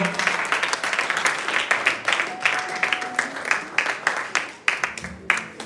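A church congregation applauds the Lord with loud, sustained clapping in a dense, rhythmic patter of many hands that carries on throughout, with faint voices mixed in.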